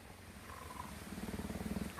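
A cheetah purrs up close, a low rhythmic rumbling that grows into steady pulsing cycles, soft and continuous with no talk over it.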